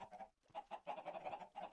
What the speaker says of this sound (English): Because these chickens are laying eggs, obviously.